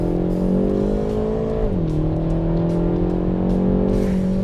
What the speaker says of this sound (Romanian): putem să mai facem o accelerație.